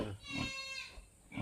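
Piglets born by artificial insemination grunt and squeal close by, several short harmonic calls overlapping in a quick, restless burst.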